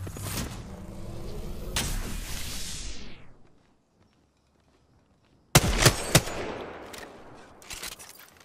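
Gunshots from an enemy's ultimate ability in a video game: loud, close bursts of rapid fire, a gap of near silence, then several sharp heavy shots and trailing impacts.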